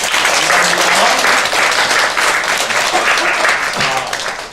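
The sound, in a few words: congregation applauding the church choir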